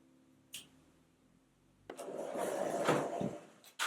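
A wooden storage drawer holding a CNC machine beneath a workshop outfeed table slides out with a scraping, rumbling rub lasting a couple of seconds, preceded by a faint tap and ending with a soft knock.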